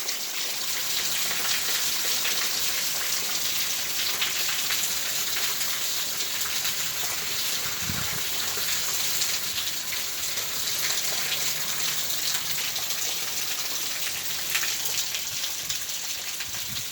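A heavy evening rain shower falls steadily on an American backyard with a freshly trimmed lawn, a dense, even hiss of rain hitting surfaces that stays constant throughout with no voices.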